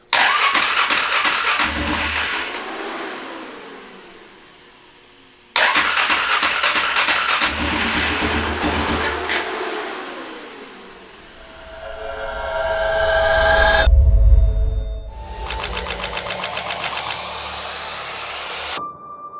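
An engine cranks in repeated bursts after a new injector has been fitted, powered from a hooked-up battery, with loud churning starter runs separated by brief pauses and a deeper rumble swelling midway.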